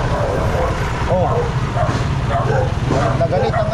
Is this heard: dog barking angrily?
yes